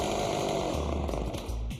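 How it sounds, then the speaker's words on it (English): A chainsaw engine labours to turn tensioned belts on a homemade tyre-hoist machine, a loud, rough, bogging drone close by with uneven dips as it strains under load. "The chainsaw engine just isn't powerful enough to turn the belts now that they've been tensioned"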